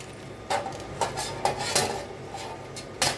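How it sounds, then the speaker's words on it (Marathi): A washed cabbage is grated on a hand grater, giving a series of short rasping scrapes at an uneven, unhurried pace, close up in a quiet kitchen. "आता किसणीन किसून घ्यायचं आहे स्वच्छ धुवून घेतला होता"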